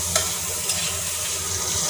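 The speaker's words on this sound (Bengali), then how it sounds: "উচ্ছে ভাজা হয়ে গেছে এবারে নামিয়ে দিচ্ছি" Bitter gourd frying in oil, giving a continuous close sizzle with a couple of sharp stirring clinks, no voices.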